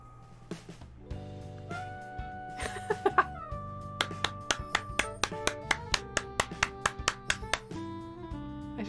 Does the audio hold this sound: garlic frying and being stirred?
no